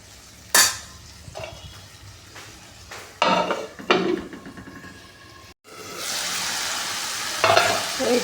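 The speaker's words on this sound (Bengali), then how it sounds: "বেশ ভালো করে ভাজা ভাজা করে নিচ্ছি।" Yardlong beans stirred and fried in a pan: a continuous sizzle with a spatula scraping and clinking against the metal in irregular strokes, briefly cut off before the frying hiss swells back louder. No voices.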